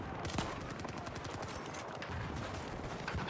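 Battlefield 4 gunfire heard as a continuous crackle of rapid automatic shots, distant and steady, with scattered louder bursts within a busy battle backdrop.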